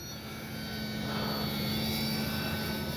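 An H-King Kitfox RC airplane runs its engine at half throttle, a steady, even buzzing whine heard from a moderate distance with a constant hum and no talking.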